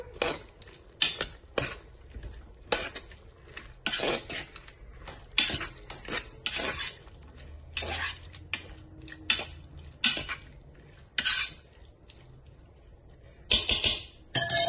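Tripe stew being mixed in a pot: repeated scraping and clinking strokes of a utensil against the metal, irregular and fairly close, with short pauses between bursts and no talking.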